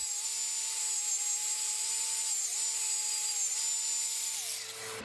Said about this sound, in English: use a wire wheel on the angle grinder to give the entire axe a nice shine to it